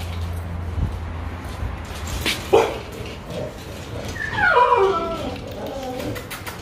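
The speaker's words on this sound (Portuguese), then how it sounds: "Passa aqui ver os cachorros, como que eles estão" Dogs in a kennel whimper and yip, with a rising burst of whiny cries near the end over a dull background rumble and some scattered noises.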